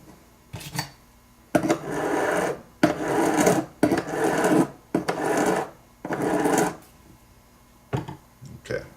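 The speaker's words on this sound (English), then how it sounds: "I've filed down the top of the bezel so that it meets the stone" A metal hand file rasps across a metal bezel set around a cabochon gemstone in repeated strokes, six or seven distinct bursts close-up with brief pauses between them.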